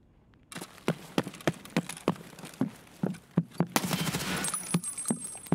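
Rapid gunfire in Escape from Tarkov, a run of sharp shots in an uneven rhythm that turns into a denser volley near the end, with no talk over it.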